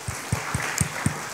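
Scattered, sparse hand claps during a Good Friday church service, a few distinct claps spaced out over a quiet room with no voices.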